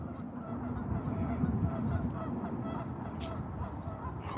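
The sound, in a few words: geese honking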